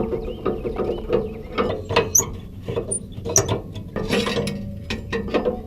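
A tow dolly ramp pin pulled and the ramp released, close metallic clicks, ratcheting clatter and clunks in quick irregular bursts, with no talk.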